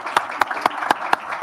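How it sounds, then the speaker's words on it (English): Brief burst of audience applause at a Board of Education meeting, five or six sharp claps standing out over a softer patter of hands, moderately loud. "let's give our round of our Board of Education round of applause."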